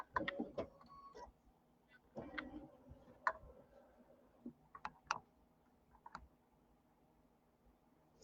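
Computerized longarm quilting machine scanning with a Kimberbell Clear Blue Tile to locate the center of a snowman pattern, giving scattered faint clicks, ticks and short whirs with quiet pauses between.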